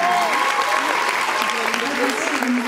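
An audience in a cinema at a Paris film premiere breaks into sustained applause. Voices can be heard talking over the clapping.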